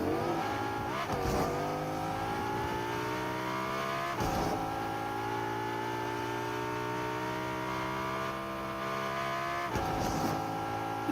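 Car driving in the video game Fortnite: a continuous engine drone with gear-like pitch climbs, broken by three brief thumps, steady and moderately loud throughout with no talk.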